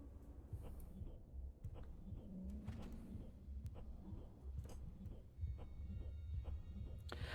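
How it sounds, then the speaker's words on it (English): Heartbeat sound effect in the video game Hyperlight, a faint low rhythmic thumping that repeats steadily under a dim background hum. "I don't like the heartbeat sound."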